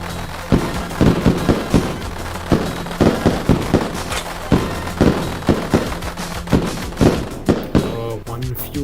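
Mortar fire and explosions from the bug-battle strategy game Nestphalia, a rapid series of sharp booming blasts popping one after another, loud and close, with a voice talking over them.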